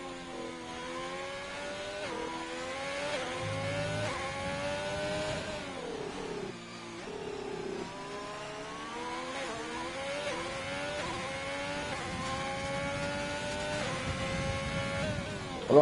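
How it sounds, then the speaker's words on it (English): An Alfa Romeo race car engine revs hard around the Brazil track, its pitch climbing and dropping through repeated gear changes. The drone is steady and fairly loud throughout, with no talk. "Nice sound of the Alfa Romeo."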